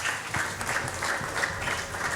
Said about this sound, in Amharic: ለጌታ ጭብጨባ ክብር ይሆንለት